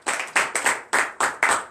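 Congregation clapping in acclamation to Jesus at a morning prayer service in Comè, Benin: six sharp, evenly spaced group claps in a steady rhythm, loud and close, with no talk.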